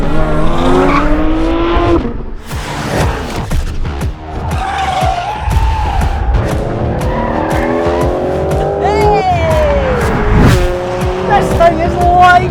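Loud engine of a Porsche 911 GT3 (992.2) revving up and down through gear changes as it drives hard on a track, with tires squealing and a voice talking over it.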